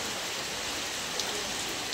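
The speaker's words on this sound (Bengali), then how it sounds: "বাইরে আরও বৃষ্টি বেড়ে গেল, চলো আরও জোরে আসছে" Heavy rain pours down outside as a storm sets in, a dense, even roar of drops that stays loud and unbroken with no voices.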